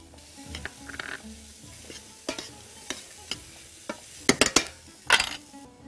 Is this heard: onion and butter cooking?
yes